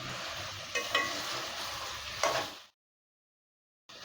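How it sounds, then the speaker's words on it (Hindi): Boiled potatoes and green onion frying in spices in a pan on a medium gas flame give a steady close sizzle with a couple of stirring scrapes, then the sound cuts off into silence before returning briefly. "आलू डाल के भी हम तकरीबन 2 मिनट करीब इसी तरह से अभी भूनेंगे मसाले"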